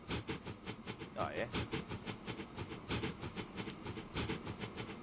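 A train from the game Transport Fever 2 rolls along with a rhythmic clickety-clack and hiss, moderately close, while someone briefly speaks over it.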